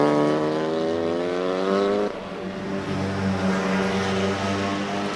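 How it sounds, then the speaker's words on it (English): Honda Civic race car engine at full throttle down a racetrack straightaway at about 231 km/h, a loud sustained buzzing drone with a sudden pitch drop near the two-second mark as another engine note takes over. "that car sounds just like a TCR car"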